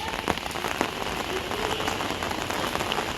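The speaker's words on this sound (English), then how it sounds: "As the rain hammers down on my umbrella" Rain hammers down on an umbrella on a street in Valencia, a dense, constant patter with sharper individual drops ticking through it, close and loud, with no talking.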